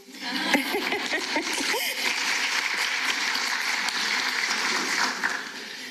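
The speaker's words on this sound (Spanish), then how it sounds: "Un aplauso para mí." A lecture audience at a university talk claps steadily after a few brief spoken words, the dense clapping holding for several seconds before tapering off at the end.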